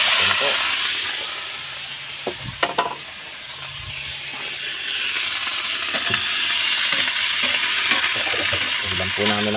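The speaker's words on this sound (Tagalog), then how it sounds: "gigisa ko na po siya. Mahiro na po siyang sibuyas at bawang." Onion and garlic sauté loudly in a pan for a breakfast of sautéed tomatoes with egg, a thick steady sizzle with a cluster of utensil knocks and scrapes partway through.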